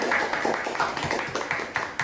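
An audience applauding student guests at SMPN 94 Jakarta in a school podcast setting, a steady patter of moderate clapping that runs throughout the clip without pause.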